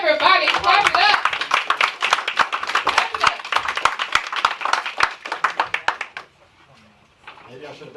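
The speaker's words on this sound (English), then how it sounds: "everybody, clap it up" Live audience at a podcasting event clapping steadily for several seconds. Sharp, dense handclaps sit loud and close alongside talk, then thin out and stop, leaving quiet room tone with brief murmurs.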